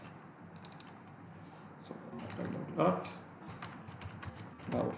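Someone types a website address on a computer keyboard, producing a run of quick, close key clicks that speed up into a flurry, partly under a man's brief speech.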